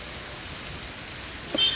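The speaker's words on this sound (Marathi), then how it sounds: "नवी मुंबई शहरामध्ये जोरदार मुसळधार पाऊस पडत आहे" Constant wash of heavy monsoon rain in Navi Mumbai, even and unbroken, with a brief louder patch near the end.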